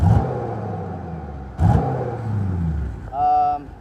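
An LS-swapped Fox Body engine that won't rev up properly runs with a steady, rough mid-pitched rumble, a couple of brief throttle blips and a short whir near the end, close by.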